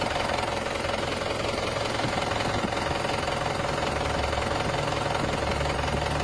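An Isuzu Crosswind engine runs after a steering box oil seal repair, a steady, close, loud idle with a continuous knocking rattle and no talking.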